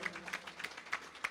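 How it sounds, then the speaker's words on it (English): Light, scattered clapping sounds faint and thin, with a handful of distinct claps spaced roughly evenly over a quiet background, coming from a small audience at a Ganesh Utsav gathering. "Tonight, I want you to give them a round of applause."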